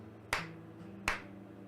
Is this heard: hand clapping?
yes